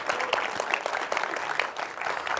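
A crowd claps continuously, a dense, lively patter of many hands filling the room at close range, at a conference event in Marseille.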